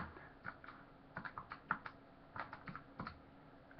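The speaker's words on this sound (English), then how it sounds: "Type that on a calculator." Quick keypresses tapping numbers into a calculator while working out the area of a compound shape, about a dozen short clicks in uneven bursts, close and faint with no talking.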